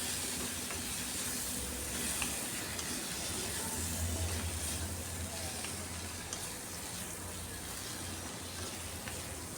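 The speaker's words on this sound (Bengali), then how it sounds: "সব মশলা দিয়ে এখন এটাকে একটু সময় কষিয়ে নেব।" Potatoes and tomatoes sauté with turmeric, cumin, coriander and red chilli powder in a pan, giving a soft, steady sizzle with faint clinks of stirring, fairly quiet throughout.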